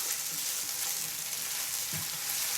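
Chopped onion sizzles steadily in a hot pan for a mixed vegetable bhaji, a constant bright frying hiss with a soft stirring scrape near the end and no talking.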